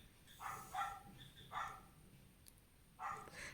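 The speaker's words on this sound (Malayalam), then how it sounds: "ഈ പട്ടിയുടെ കുരയ്ക്കൽ എനിക്ക് ഭയങ്കര ഡിസ്റ്റർബൻസ് ആവുന്നുണ്ട് ചില സമയത്ത്" A dog barks in short bursts of two or three yaps, pausing between groups, moderately distant over a quiet evening background.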